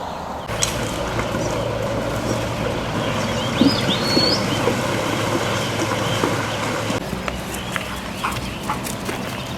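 Horse hooves clip-clop steadily over a constant rumbling, busy background noise, with no one speaking.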